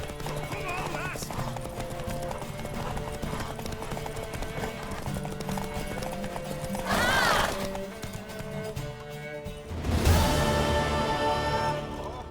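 Horse hooves clip-clop at a gallop in The Witcher 3 during the Bloody Baron questline, with a loud whinny around the middle and another later, over game music and people talking.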